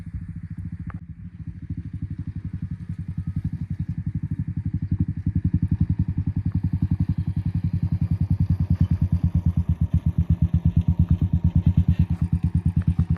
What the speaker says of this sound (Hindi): बाइक आ रही है, 1 मिनट रुक जाओ।